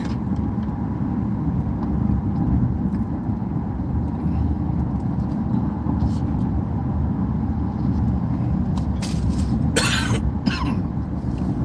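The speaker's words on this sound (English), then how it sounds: "I just got a cough I can't get rid of." A single short cough bursts out near the end over the steady rumble of a car driving on the I-10 in Houston.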